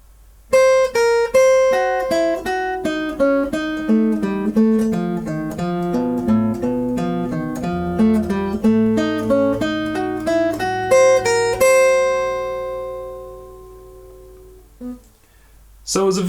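Electric guitar runs a spider finger exercise quickly, a steady stream of evenly picked single notes climbing and descending the strings, ending on a ringing note that decays; played alone and close.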